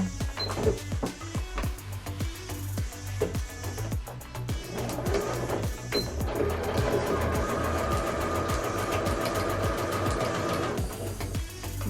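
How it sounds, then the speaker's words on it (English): A sewing machine runs in rapid, steady mechanical bursts, its needle clattering quickly and evenly, close by with no talking. "Put it into the sewing machine."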